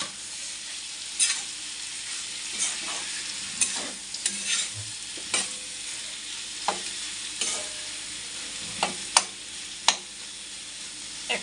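Fried prawns are stirred into sizzling masoor dal, a constant hiss of frying under repeated sharp scrapes and taps of a spoon at an uneven rhythm, with no talking.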